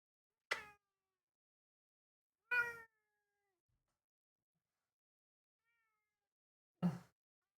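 A cat meows three separate times with long quiet gaps between them, each call short and clear, close to the mic, with no talk over them.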